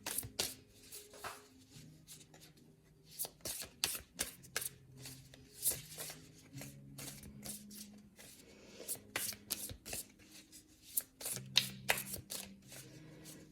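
Tarot cards are shuffled by hand close up, a quiet run of riffling slaps and soft rubbing strokes in irregular bursts, with faint murmured tones beneath.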